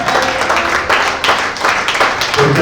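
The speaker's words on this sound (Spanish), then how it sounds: "¿Podrá darle ofrenda de palmas al Rey, mi hermano?" Congregation clapping as an offering of palms in a church worship service, a loud, dense and continuous wash of applause with rhythmic surges, heard close throughout.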